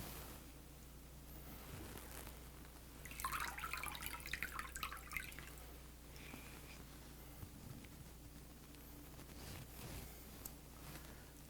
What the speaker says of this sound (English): I'm going to try and squeeze out as much of the moisture as possible.